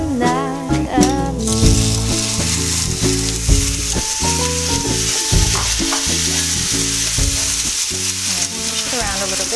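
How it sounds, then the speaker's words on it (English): Shrimp fry in a caramelized, browning pan, giving a steady close sizzle that runs under a loud song with singing playing throughout. "we're going to add the shrimp."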